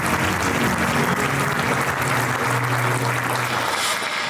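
An audience applauds steadily to welcome Professor Vincent Brulart as a guest at a French forum, a dense, even wash of clapping held at constant loudness throughout, with no talking over it.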